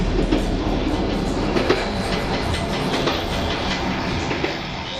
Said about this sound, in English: I'm on the train to Tibet.